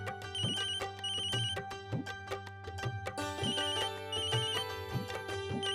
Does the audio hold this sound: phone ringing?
yes